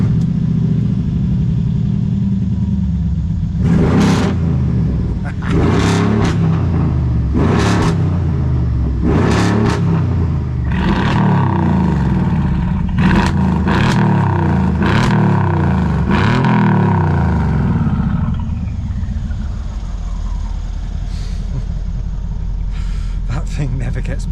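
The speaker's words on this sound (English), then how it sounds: "Please tell me you finished revving up." A Brabus-modified car engine revs hard again and again, sharp surging blips over a deep rumbling idle, loud and close with voices speaking over it.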